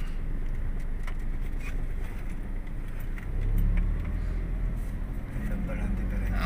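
Car driving slowly over a bumpy, potholed road while checking for suspension noise from a stabilizer bar bushing: a steady engine and road rumble with a heavier thump midway, under talk.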